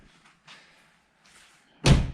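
A Ford Escape Hybrid door, with newly adjusted hinges, shuts with a single solid thud at the end, after a few quiet soft rustles and handling noises.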